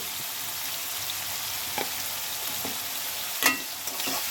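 Potatoes sizzling in a pan of frying onion and shrimp, a steady, fairly loud hiss and crackle with a few short scrapes and clinks of stirring, no talking.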